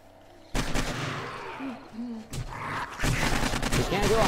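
Gunfire in the zombie survival game 7 Days to Die, with sharp shots and heavy booming blasts cutting in over rumbling game audio, loud and close, with a sudden louder burst near the end.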